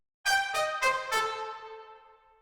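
Four quick, bright orchestral chords from trumpets with flutes voiced an octave higher, sharp attacks rising into a ringing final chord that fades out, heard alone without talk.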